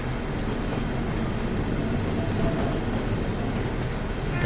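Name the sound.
DB Vossloh G6 shunter locomotive running in Train Sim World 2 video game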